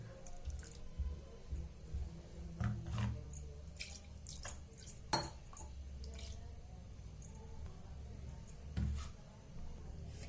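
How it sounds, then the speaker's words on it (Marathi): Water splashes and drips as a mixer grinder jar is rinsed clean under running water, with irregular close splashes and dribbles throughout and no voices. "हे मिक्सरचं भांड पण चांगलं स्वच्छ धुवून घ्यायचं"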